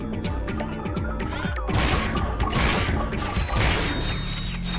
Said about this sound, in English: Ah, there's the bolt crank.